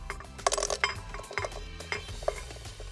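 Shallots drop into a blender jug while a spice paste for Assam laksa is prepared, giving several close, quiet clinks and knocks with short pauses between them.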